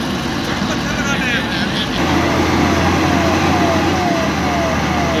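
An empty truck on the Sukhtva bridge strains its engine as it slips, a loud steady low drone under constant road noise and traffic, with a siren-like wail and people talking nearby.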